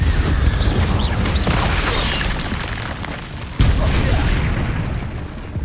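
Confringo blasting spell explosions in the Hogwarts Legacy video game, a dense run of booming bursts and crashes with a sharp fresh blast near the end, loud and continuous game-combat noise.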